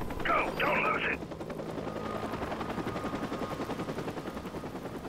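A steady mechanical video game helicopter rotor drone with rapid pulsing fills the scene, with a brief voice near the start and gunfire-like clatter underneath.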